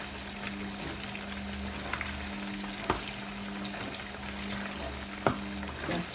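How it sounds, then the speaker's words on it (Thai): Food frying in a pan, a steady soft sizzle with a faint low hum and occasional clicks of utensils, fairly quiet and continuous throughout. "ทอดไปเรื่อยๆจ้ะจนกว่าเขาจะสุก"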